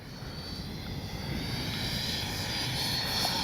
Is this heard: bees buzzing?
no